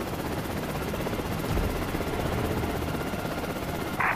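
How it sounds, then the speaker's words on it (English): A stolen helicopter flying in the Prototype video game, with a steady, loud, close rotor drone and engine whine holding evenly throughout, no voices. "I find it best to get as high as possible as soon as you steal a helicopter."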